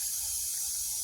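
A soft, steady rush of tap water running continuously into a sink during dishwashing, with no voices.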